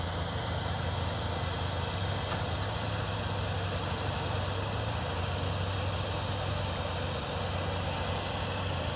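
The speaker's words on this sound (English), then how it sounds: "That's a Verado, one of the new, it's been around for a while now, 200 horsepower Verado Mercury." A Mercury Verado 200 hp outboard engine idles on a boat at the head of a lake, giving a steady, continuous low hum with a constant mid-range drone throughout and no talk.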